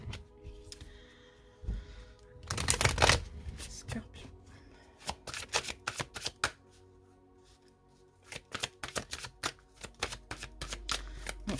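Oracle cards being shuffled during a tarot-style reading, a burst of riffling near the start followed by a run of crisp rapid card snaps and taps, close and fairly loud, with a low hum underneath.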